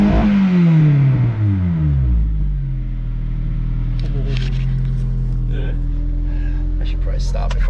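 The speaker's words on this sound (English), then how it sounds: "Nothing like a good cold start rev, right?" A car engine on a cold start revs hard and loud at first, then its pitch drops and it settles into a steady, rumbling idle close by, with faint noises over the top.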